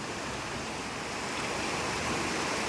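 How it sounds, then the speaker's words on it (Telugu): Continuous broadband roar of rushing floodwater in heavy rain, steady and fairly loud throughout, with no voices. "అరిగెత్తున వచ్చేస్తున్నాయి నీళ్ళు"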